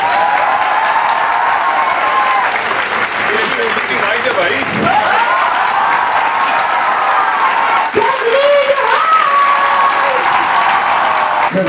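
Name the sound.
audience applause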